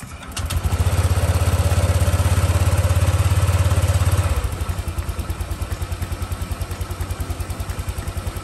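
A Honda Click V3 scooter engine, just fitted with a new fuel filter, starts up close by and runs loudly at raised revs for a few seconds, then drops to a steady, rhythmically pulsing idle.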